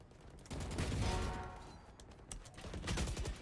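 Gunfire in the video game Valorant, a quick burst of close shots followed by more scattered firing, with rumbling game ambience underneath.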